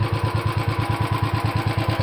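A motorcycle engine runs at a steady idle-like putter, close and loud, with a fast even pulsing rhythm throughout and no talk over it.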